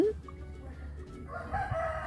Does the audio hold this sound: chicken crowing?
yes